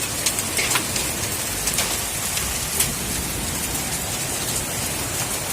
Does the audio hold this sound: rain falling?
yes